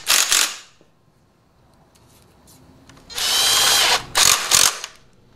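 Ratchet tightening fuel tank bolts on a Honda motorcycle, close loud bursts of rapid clicking, one short burst, a pause, then a longer run followed by two quick bursts.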